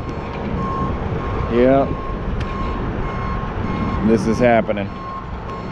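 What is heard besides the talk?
tow truck reversing beeps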